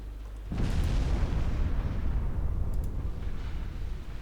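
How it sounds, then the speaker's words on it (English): A heavy explosion bursts suddenly and rolls on as a loud, sustained low rumble, a torpedo striking a ship in a naval warfare game set in 1937 waters off Norway. "We're scoring torpedo hits on things."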